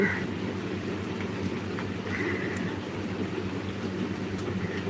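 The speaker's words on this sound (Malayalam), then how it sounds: "മഴ വരുന്നുണ്ട് ഗെയ്സ് നല്ല മഴ" Heavy rain falls on a dark evening, a steady broadband hiss with a low rumble underneath, holding at an even level throughout with no break.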